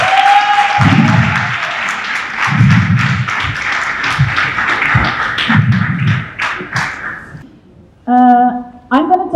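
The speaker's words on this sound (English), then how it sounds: "Can I get another round of applause?" Audience applause during a keynote on AI and creativity, a sustained wash of clapping from a sizable crowd with some thumping, fading out before a voice begins speaking near the end.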